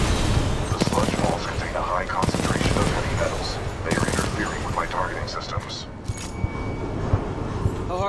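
Rapid gunfire in Titanfall 2 during a battle, with dense bursts of shots running almost continuously alongside other combat noise and voices talking.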